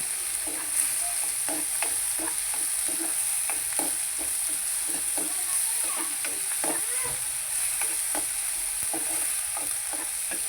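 Dried fish curry with onion and tomato sizzles and fries in a pan, with a steady hiss broken by repeated scraping stirs, close and moderately loud, no talking.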